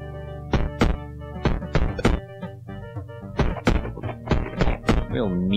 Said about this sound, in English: Real meaty thump when he hits that punch bag.